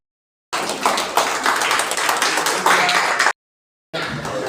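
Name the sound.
audience applause at a ceremony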